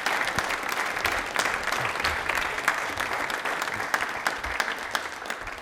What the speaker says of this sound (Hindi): तालियां पर जोरदार जाती है।